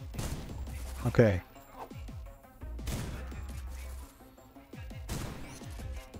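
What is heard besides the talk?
shotgun firing in video game SlavicPunk: Oldtimer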